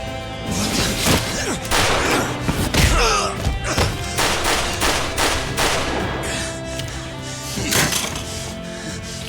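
Gunfire in the video game Judgment during the stickup chapter: a string of sharp, loud shots and heavy thuds crack through a busy action mix, with bursts spread unevenly across the clip.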